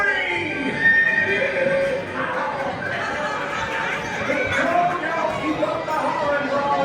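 A horse whinnies amid a noisy outdoor crowd at Walt Disney World's Magic Kingdom, with people chattering and laughing around it.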